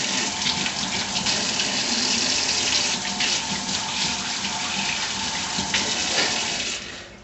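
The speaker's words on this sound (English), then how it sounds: "I always start by washing my hands." Hands being washed under a running kitchen tap before cooking raggmunk potato pancakes, a steady, close splashing rush of water that continues evenly and then cuts off at the end.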